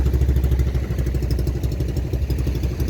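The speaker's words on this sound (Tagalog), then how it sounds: "Ayan ang makina niya." A fishing boat's engine drones continuously at a low pitch, loud and close, with a rhythmic mechanical clatter running through it.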